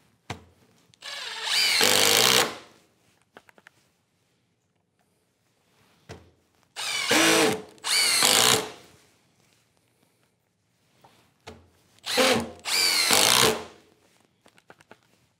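A Milwaukee M18 FUEL 2853-20 Gen 3 impact driver drives screws into wood in five short, loud, rattling bursts, some in close pairs, separated by quiet pauses with small clicks and handling sounds.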